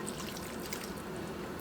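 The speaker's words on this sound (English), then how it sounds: "Now I'm just going to add a half a cup of water to it" Half a cup of water pours into a Moroccan tagine of chicken with preserved lemons and olives, a soft, steady trickling splash throughout the brief moment.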